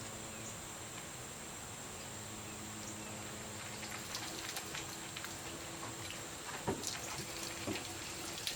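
A steady stream of water runs from a hose, a soft continuous hiss and splash outdoors with a few louder drips and taps toward the end.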